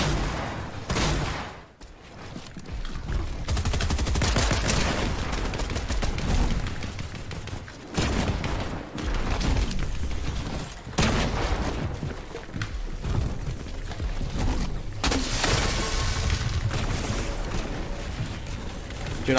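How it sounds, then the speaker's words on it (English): Loud heavy shotgun blasts and other gunfire crack through a battle royale video game fight in rapid, irregular bursts, with a player's voice talking briefly between shots. "Why? Why are you still shooting?"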